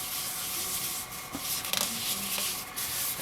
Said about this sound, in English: Ideally, if you can sand in reverse as well as forward, you get a much cleaner finish because the fibers will get sanded going both ways.